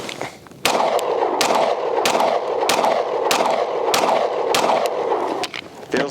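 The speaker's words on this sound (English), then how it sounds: "First rounds through the Hellcat Pro in its standard configuration." A Springfield Hellcat Pro pistol in standard unported form fires a rapid string of sharp, loud gunshots at close range, about seven or eight cracks in quick rhythm with brief echoing tails.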